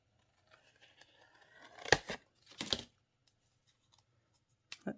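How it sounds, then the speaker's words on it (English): Scissors snipping a small paper heart for a handmade card: a few quick, close cuts with crisp paper rustle, separated by silence. "I'm just going to cut out a little heart to tuck up under amazing."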